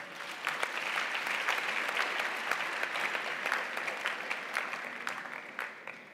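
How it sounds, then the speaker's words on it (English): A crowd at a university campus official opening applauds warmly, many hands clapping in a steady, even wash that holds for several seconds and then begins to fade near the end. "So let's give ourselves a round of applause."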